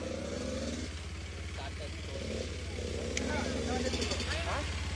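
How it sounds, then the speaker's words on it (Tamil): A Kawasaki KLX 230 dirt bike on a motocross track drones with a steady low engine hum that swells slightly toward the end, mostly under a person talking close by. "சத்தமே ஒரு 2 ஸ்ட்ரோக் மாதிரி இருக்குது."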